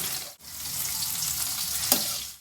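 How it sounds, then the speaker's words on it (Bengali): Beans fry in hot oil, giving a dense, even sizzle up close. It briefly drops out early on, and a sharp stirring clack comes near the end. "বিনসটা যত ভালো করে ভাজবেন সবজিটা ফ্যাস ফ্যাস করবে না"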